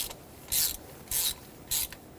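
Socket turned by hand to thread a spark plug into a 2.4L four-cylinder engine on a 1995-2004 Toyota Tacoma, three short scraping ratchet-like bursts at a steady rhythm, close and fairly quiet, with no talking.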